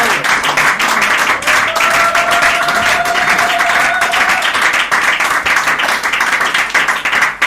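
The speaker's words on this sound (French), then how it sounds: "tu peux acclamer pour ton pasteur" A church congregation applauds and cheers for their pastor, with dense sustained clapping and crowd noise filling the room throughout.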